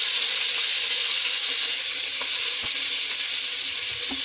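Chopped onion fries in hot oil in a home kitchen pot, making a dense, loud, continuous sizzle with faint stirring clicks and no talking.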